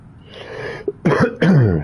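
A man coughs and clears his throat at close range, a raspy throat-clearing followed by two loud, harsh coughs in quick succession.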